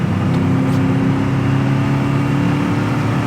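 A 1970 Ford Mustang Boss 302 engine pulls hard under acceleration, a loud, steady mid-pitched roar with a held drone that stays up close and continuous, no talking over it.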